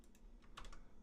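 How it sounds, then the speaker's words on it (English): Quick bursts of keystrokes on a computer keyboard while Swift code is typed in Xcode, a few close, light clicks in a short run with no voices. "I think I tried to run it before I was even done typing it."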